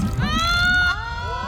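Cartoon characters shouting together in the distance, overlapping high voices ringing out over splashing jelly sloshing close by.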